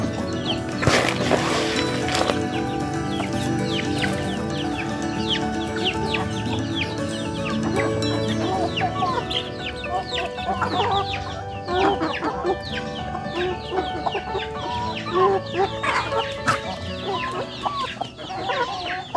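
Ayam Bangkok chickens raised on a farm cluck steadily in a close, busy chorus, with short overlapping calls and the occasional louder squawk.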